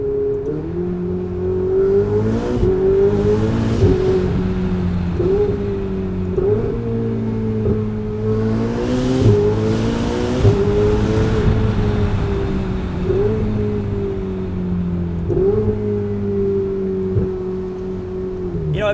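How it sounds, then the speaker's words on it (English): Ferrari 488 engine pulls hard through the gears toward the red line, its loud, close droning tone rising in pitch repeatedly, with brief dips at each shift before climbing again over nearly twenty seconds. "All the boost picks up early and it just takes you all the way to the red line."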